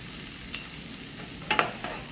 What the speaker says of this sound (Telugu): సో ఇప్పుడు కరివేపాకు, ఉల్లిపాయ వేసావు.